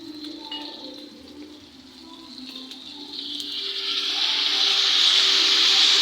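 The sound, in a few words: food frying in a pan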